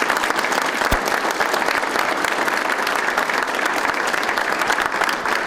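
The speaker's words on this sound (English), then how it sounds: "I think they deserve a round of applause for taking the initiative to do this" Sustained audience applause at a 2016 State of the City address honoring the police department, a steady, dense roar of many hands clapping that holds evenly throughout.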